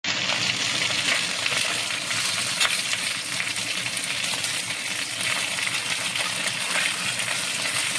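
Turnip being stirred into a pot of fish soup, heard as a continuous, loud hissing and bubbling cooking noise that stays even throughout, with no distinct stirring strokes and no voices.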